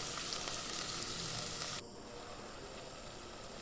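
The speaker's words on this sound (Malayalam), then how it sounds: "നമ്മുടെ മീൻ കറിക്കുള്ള സവാളയും ചെറിയ ഉള്ളിയൊക്കെ കൂടെ ഇങ്ങോട്ട് വഴറ്റണത്" Onions and shallots sauté in a hot pan for a fish curry, giving a steady close sizzle that suddenly drops to a quieter, even frying hiss partway through, with no talking.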